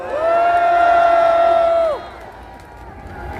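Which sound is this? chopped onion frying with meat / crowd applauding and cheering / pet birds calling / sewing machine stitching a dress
crowd applauding and cheering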